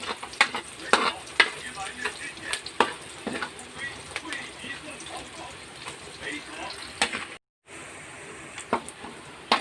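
Garlic sautés in a pan for spaghetti sauce, giving a steady close sizzle broken by scraping stirs and clatter, with a brief silent gap near the end.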